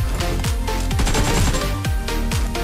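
Rapid bursts of gunfire in a mobile shooter game, loud and close, with repeated sharp shots and descending shell or effect tones layered over a continuous rattle, no voices.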